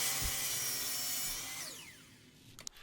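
A hand saw trims the top of a hickory table leg, a steady close rasping cut that fades out toward the end, followed by a couple of light knocks.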